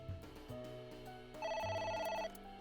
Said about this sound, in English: It's the phone again. It's ringing again.